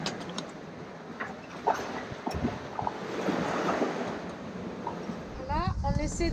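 Ocean waves wash and slap against a sailing boat at sea on the way to Porto Santo, a steady rushing wash with wind noise across the microphone and a few louder splashes, with people talking nearby.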